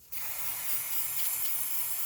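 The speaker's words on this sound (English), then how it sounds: "spray off whatever else you can with your brake clean" Brake cleaner sprayed onto the removed transmission pan of a 2006 Subaru Outback 2.5 SOHC during an ATF change: a steady, close hiss starts abruptly and runs for about two seconds without pause, with no talking.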